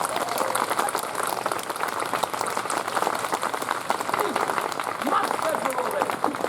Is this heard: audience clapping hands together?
yes